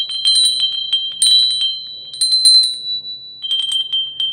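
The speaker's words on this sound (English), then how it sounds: "I love these cast iron bells that you can buy." A cast iron bell topped with a fleur-de-lis is rung in several bursts. Each strike carries a bright, sustained metallic ring with clear overtones, and brief pauses fall between the rings.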